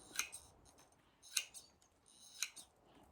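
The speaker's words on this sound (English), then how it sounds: "Snip out the top." Scissors snip through a plant stem while taking cuttings, three crisp, close cuts spaced about a second apart in a quiet room.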